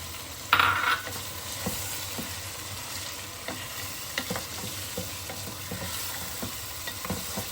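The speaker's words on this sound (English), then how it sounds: "Stir it for a couple of minutes, and then we're gonna put some masala in it" Chicken karahi with yogurt being stirred in a pan, a steady sizzle running throughout with repeated soft scraping strokes of the utensil and a brief louder splash near the start.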